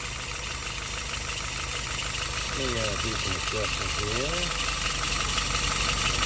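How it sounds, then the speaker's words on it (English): A YS 950S engine idles at 700 RPM with a continuous low rumble throughout, while someone speaks briefly over it partway through. "All right, idling at 700 RPM."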